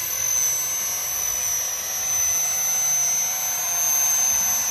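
A 3D printed VTOL RC trainer aircraft, upscaled to 120%, hovers in to land, its electric motors giving a steady, loud high-pitched whine with slight swells in level.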